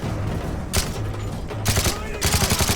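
Gunfire in Call of Duty Modern Warfare 3 on Veteran difficulty, bursts of rapid automatic shots with a booming report, loud and close, with a voice talking between the volleys.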